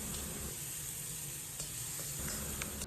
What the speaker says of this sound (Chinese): 继续把小料炒出香味。